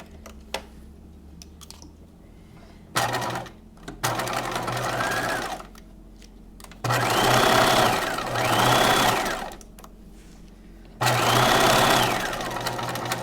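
A sewing machine stitches along the two long edges of a keyhole bodice piece in several separate bursts of close, steady whirring, with quiet gaps and small handling clicks between runs.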